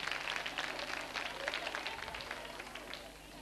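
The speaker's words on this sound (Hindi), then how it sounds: "जोरों से बजाइए तालियां श्वेता माथुर के लिए" At a Holi quiz show at a government women's polytechnic college, an audience claps for a performer, the applause quiet and somewhat distant, thinning slightly toward the end.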